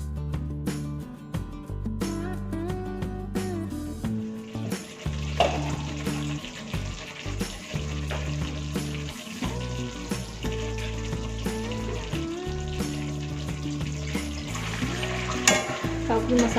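Spice masala with tomatoes frying for a rohu fish curry, a continuous close sizzle with repeated stirring scrapes, heard over steady background music.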